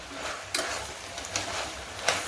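Bhoti (tripe) fries in oil in a pan for curry, giving a continuous close sizzle with a few sharper crackles and spatters, and no voices.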